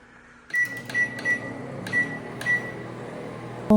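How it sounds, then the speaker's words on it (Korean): A microwave oven heating a cup of tteokbokki starts with a steady hum, and a series of short, evenly spaced electronic beeps rings out close and clear above it. "전자레인지 2분 20초 돌리라고 되어 있어서 돌리러 왔어요."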